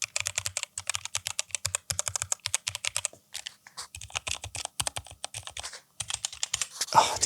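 Rapid typing on a split mechanical keyboard fitted with yellow switches, dense clacky keystrokes in bursts with a brief pause midway, close and clear with no talking.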